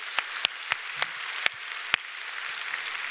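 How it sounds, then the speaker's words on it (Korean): Church congregation applauding during a Sunday worship service: a steady wash of clapping with a handful of sharp, distinct claps standing out, fairly distant and moderate in level, no voices. "더 뜨겁게 박수로 하나님께 영광 돌립니다."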